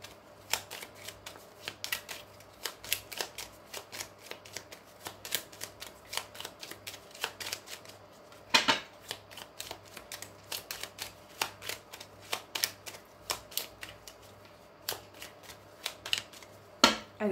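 A deck of tarot cards is shuffled and cut up close, giving rapid riffling flutters and crisp slaps in repeated bursts, with one louder snap midway, and no talking.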